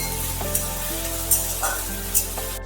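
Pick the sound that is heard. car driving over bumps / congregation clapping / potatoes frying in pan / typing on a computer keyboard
potatoes frying in pan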